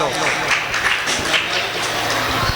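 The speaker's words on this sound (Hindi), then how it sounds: "जोरदार तालियां बजाते हैं आप लोग" Crowd applause at an All India Mushaira poetry gathering in Gangoh, Saharanpur, welcoming a chief guest: a steady, dense wash of hand-clapping from a large audience that holds at an even level throughout.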